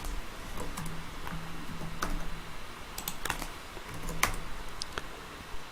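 Computer keyboard keys pressed in short clicks and small clusters at an irregular pace, close and fairly quiet, with no voices.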